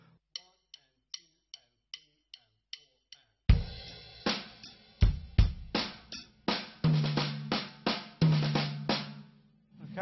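Drum kit practice of four-stroke ruffs: a slow run of quiet, evenly spaced light taps, then a bar of full groove with loud kick, snare and cymbal hits, ruffs starting on the high tom, played alone and close with no talk.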